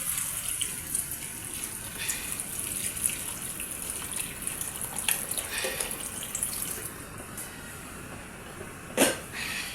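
Hot water poured steadily into a pot of beans and garden eggplant, a continuous close gushing splash with a louder burst near the end.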